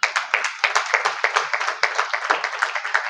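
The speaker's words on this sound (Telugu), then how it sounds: "ఇప్పుడు కొట్టారు చప్పట్లు" An audience at a temple wedding ceremony claps in quick, crisp, fairly loud bursts, many hands striking in a brisk, slightly uneven rhythm with no voices over it.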